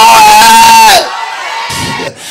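A church congregation lets out a loud, sustained shout with whoops during a service, the roar cutting off abruptly and giving way to quieter crowd murmur.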